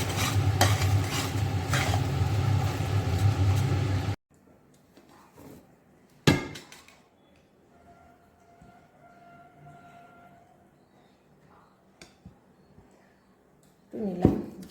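A jaggery and spice mixture is stirred in a cooking pan, giving a loud, steady scraping and sizzling for about four seconds, then near silence with a few faint knocks and a brief burst of stirring at the end.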